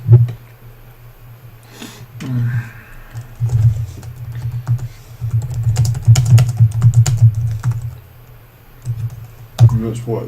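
Rapid keystrokes on a computer keyboard patter in uneven bursts, close and fairly loud, with some talking mixed in between runs of typing.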